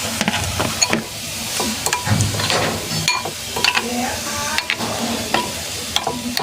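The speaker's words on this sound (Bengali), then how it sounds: "আমি এইভাবে বেগুনটাকে আমি একটা একটা করে নিয়ে এইভাবে তেলের উপরে ছেড়ে দেবো।" Eggplant slices fry in a little oil in a pan, sizzling steadily while utensils clink and scrape against the pan in irregular taps; no talking.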